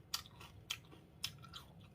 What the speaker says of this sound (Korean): 잘 숙성이 돼서 아삭아삭하니 100g 먹고 있습니다